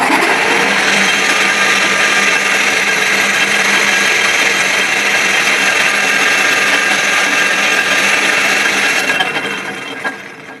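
A homemade lathe driven through a gear reducer runs with a loud, steady whirring and grinding drone close by, winding down in the final second.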